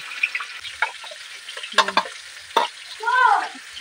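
Fish frying in a pan of curry, a close sizzle with scattered crackles and a few clinks of a utensil, with no voices.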